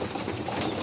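Hungry young pigeons and adults crowd together at feeding time, a continuous dense murmur of cooing and chattering bird calls close by with no pauses, steady and moderately loud throughout.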